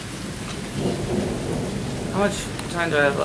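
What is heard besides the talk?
heavy rain during a thunderstorm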